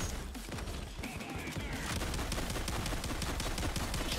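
Rapid automatic turret fire in Payday 2 rattles on continuously in dense bursts, loud and steady throughout, with battle noise layered around it.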